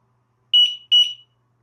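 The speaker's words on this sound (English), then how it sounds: "I'm going to press the set button, and I'm looking for 2 beeps." A small home alarm gives two short, sharp electronic beeps in quick succession after its set button is pressed, clear and alone against silence.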